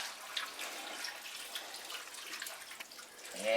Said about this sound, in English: we're going to put 8 cups of cold water. I'll just pour it over.